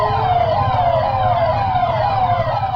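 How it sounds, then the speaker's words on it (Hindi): A police vehicle convoy circling Gurudwara Bangla Sahib on Delhi streets blares a loud, continuous wailing siren over a steady low engine rumble. "लेकिन दिल्ली की सड़कों पर बजता ये सायरन बहुत खास है।"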